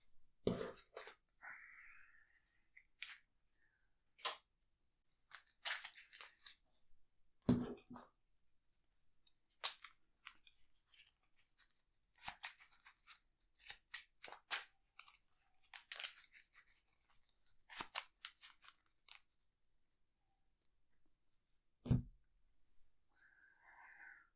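Arkham Horror card game encounter cards being shuffled into the encounter deck, with bursts of crisp riffling and flicking at irregular intervals over about twenty seconds, close and fairly quiet with no talk.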